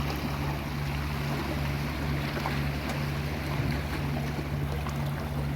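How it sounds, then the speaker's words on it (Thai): Steady sea waves and wind wash over a lakeside-style shore in Laos during the dry season, a constant broad roar with a low engine-like hum underneath and no talking. "เป็นธรรมชาติของน้ำทะเลมันมีคลื่นมาลมพัด"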